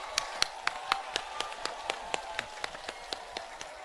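Crowd at a BSP election rally in Buxar, Bihar claps in a steady run of sharp, evenly spaced claps that carry on throughout.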